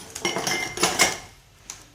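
Pudding mixture goes into baking dishes with a quick run of clinking and scraping from dishes and utensils, several bright knocks in the first second, then a pause and one last light tap.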